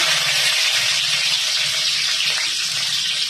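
Green onions hit hot oil tempered with panch phoron, a loud, steady sizzle with a bright crackling hiss that carries evenly and close throughout.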